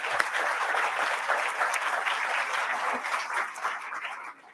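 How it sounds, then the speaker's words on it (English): An audience at a panel discussion event applauds the speakers with steady, sustained clapping that fills the room and tapers off at the end. "Another round of applause for all of them."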